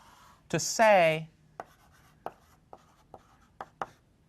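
During a calculus lecture, chalk or marker strikes a board in a series of short, separate taps and strokes. Before them comes a brief vocal sound.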